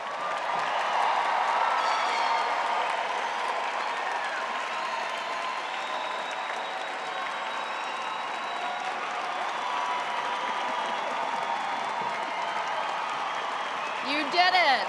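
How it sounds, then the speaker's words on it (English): Steady applause fills a graduate commencement ceremony at Adelphi as graduates' names are read, a dense, even wash of clapping from a large audience with some cheering and voices mixed in, rising briefly at the end. "Give them a round of applause."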